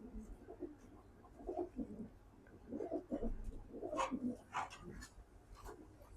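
Rooftop pigeons coo in soft, low repeated phrases, close by, with some faint rustling and a few sharper sounds mixed in.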